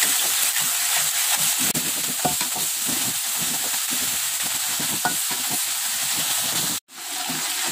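Blended spice paste sautés in a pan while a spoon stirs it, giving a loud, continuous sizzle with repeated scraping strokes, then a brief cut near the end.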